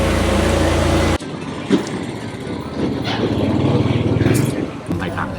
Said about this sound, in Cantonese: 一度食一度有啲機車嘅聲音